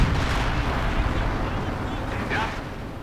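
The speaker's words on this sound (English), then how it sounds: "Looks like an attempt at counter-artillery." Artillery fire in a real-time strategy game battle, heard as a continuous low rumble of distant booms and shelling with a brief higher burst near the end, under game unit voice lines.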